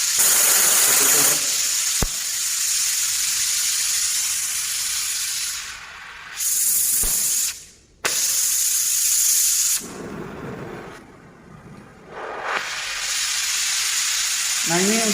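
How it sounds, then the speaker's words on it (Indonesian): An oxy-LPG flame cutting torch, a loud roaring hiss that surges when the cutting oxygen valve is pressed, then cuts out and drops away in abrupt stops and restarts, with a couple of sharp clicks. "ini kalau api cutting tinggal kita tekan katup yang ada di sini. Ini nanti untuk memotong."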